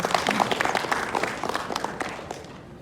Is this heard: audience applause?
yes